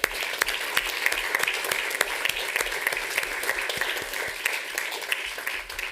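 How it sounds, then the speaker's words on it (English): An audience at an afternoon devotional program gives a sustained round of applause for the participants, dense, even clapping with distinct sharp claps standing out close by. "let's give a big round of applause to everybody who participated today"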